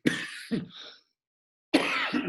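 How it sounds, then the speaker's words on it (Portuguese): Two sharp coughs in quick succession, then a pause and another harsh cough, close to the microphone with no talking. "vai acontecer mais vezes essa tosse"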